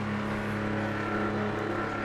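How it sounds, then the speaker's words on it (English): A GT3 race car in Project Motor Racing sustains a loud, steady engine note with no pauses and no talking. "you gotta love the sound of this car"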